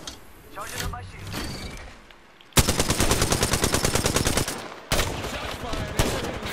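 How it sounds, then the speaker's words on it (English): Rapid automatic gunfire in the Apex Legends shooter, loud sustained bursts of evenly spaced shots with a brief pause between two volleys, preceded by softer game sounds and chatter. "Shot fired."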